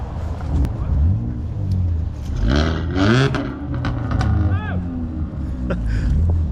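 A BMW E30 and other cars rev at a car meet, with short rising engine revs in the background under nearby people talking.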